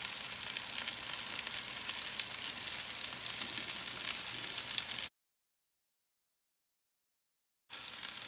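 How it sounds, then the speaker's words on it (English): Raw bacon slices sauté in a pan with a loud, even, crackling sizzle that runs for several seconds. A gap of silence breaks it before the sizzle resumes. "I'm just gonna throw these in there and I'm gonna let all this saute and cook together."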